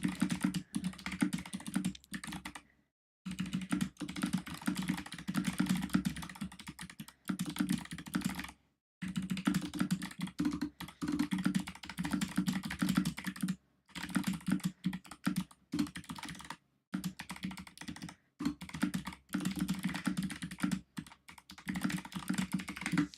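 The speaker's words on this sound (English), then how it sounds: "All you heard was aggressive clicking as I type out to her." Rapid, forceful keystrokes clatter on a computer keyboard in close bursts of typing separated by brief silent pauses, no talking over them.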